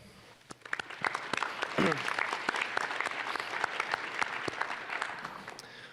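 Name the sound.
audience applause at honor society induction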